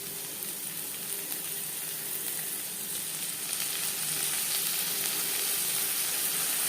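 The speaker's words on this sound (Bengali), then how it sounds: "পেঁয়াজ ভেজে নেওয়ার পর দিয়ে দেবো আদা বাটা, কাঁচা লঙ্কা বাটা" Onions frying with ginger paste and green chili paste for a spicy Bengali pabda fish tomato curry, an even continuous sizzle close up with faint stirring, no talking.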